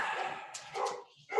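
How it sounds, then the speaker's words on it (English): Dogs bark in the background of a cave-exploration game, a short burst of several yips and barks at moderate distance, with a brief pause before one more bark at the end. "Now I'm the one with dogs barking in the background."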